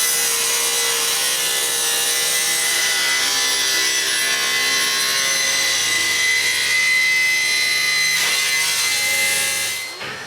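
A tilted saw blade cuts an angle through walnut for a clock frame, a loud, steady sawing whine running the full length before the cut ends and the sound drops away.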